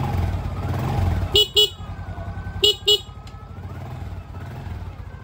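A Honda XRM 125 motorcycle engine idles with low rumble as its horn gives two quick double beeps, short sharp honks repeated about a second apart, close by.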